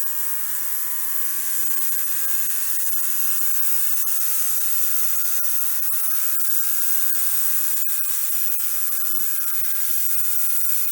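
An ultrasonic cleaner with degreasing fluid, working on a Yamaha XJ900F carburettor, gives off a steady high-pitched electric buzz and hiss that holds at moderate volume with faint crackle throughout.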